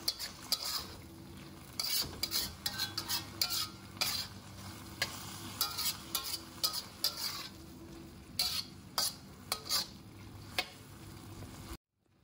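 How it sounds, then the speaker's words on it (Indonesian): Squid ink is stir-fried in a pan until nearly dry for black fried rice, giving a close, soft sizzle broken by repeated scraping strokes of a utensil against the pan, then a sudden stop. "ini kita masak sampai agak kering"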